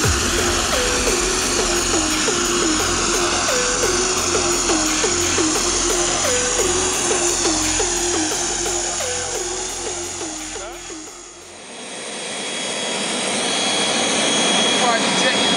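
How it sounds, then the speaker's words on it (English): A private jet's engine roars loudly and steadily inside the cabin during a music tour, a dense broadband rumble with a high whine, dipping briefly before swelling again while people talk over it. "Private jet, you know."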